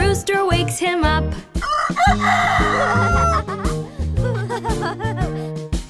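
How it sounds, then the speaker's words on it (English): A cartoon rooster crows in a children's farm nursery song, its crowing mixed into bright music with steady bass notes and a full, busy arrangement. "The rooster wakes him up"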